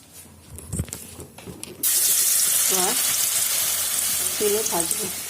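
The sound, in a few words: cauliflower pieces frying in oil for fritters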